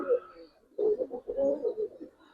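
A senior Giribaz pigeon at a pigeon market coos close by in three low, throaty bursts separated by short pauses.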